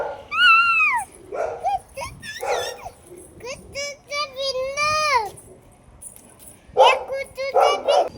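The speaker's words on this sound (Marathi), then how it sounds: "तिथे मात्र हे छोटे छोटे कुत्र्यांचे पिल्लू होते." Small puppies yap and whimper in high, rapid bursts at a grocery shop, close by and fairly loud, with a voice and other talk mixed in.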